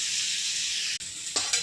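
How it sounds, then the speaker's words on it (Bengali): Marinated mutton sizzling and frying in a pan with onions, a steady loud hiss broken by a brief pause and a couple of stirring scrapes near the end. "ভাজা হোক, রান্না হচ্ছে, ম্যারিনেট হয়েছে, একদম লাল লাল হচ্ছে"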